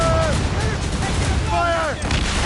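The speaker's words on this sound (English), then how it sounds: "Captain, use explosive shots! Ready, Captain! Fire!" Broadside of explosive cannon shots from a sailing warship in Assassin's Creed Rogue, heavy dense booming and rumble through the clip with shouted crew voices and swelling music tones over it.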